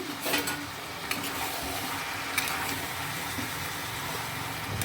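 Chicken fries in a pan with salt and slit green chillies, a steady, quiet sizzle with occasional scraping stir sounds and no talking.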